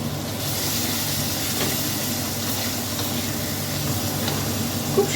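Ginger, garlic, sugar and spices being stirred in a hot pan, a steady sizzle with scraping stir sounds running continuously at close range, no talking.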